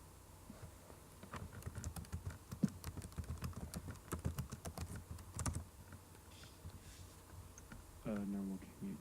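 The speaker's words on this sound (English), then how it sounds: "They're typing out their question right now." Rapid typing on a computer keyboard, steady clusters of close, light key clicks continuing for several seconds with faint background noise and a brief electronic tone at the end.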